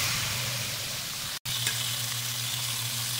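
Chicken wings fry in olive oil with a loud, continuous sizzle and crackle, broken once by a split-second gap before the frying resumes.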